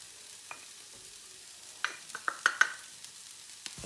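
Mushrooms frying in a pan with softened onions, celery and garlic, a quiet sizzle broken by a few sharp clicks and scrapes of a utensil stirring, close and brief.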